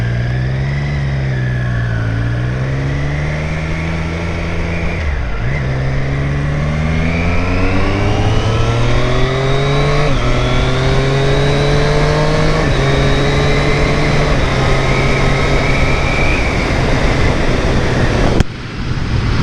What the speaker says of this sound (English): this is a stock exhaust. It sounds pretty good